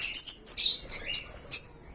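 Parrots give a string of shrill, close chirps and squawks in quick bursts, roughly five or six calls over a couple of seconds, loud against a quiet background with no voices.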